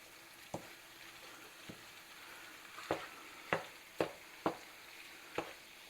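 Onions and garlic sizzle softly in a pan, a low steady frying hiss broken by several sharp scraping or tapping knocks from stirring, spaced unevenly and louder toward the end, with no one talking.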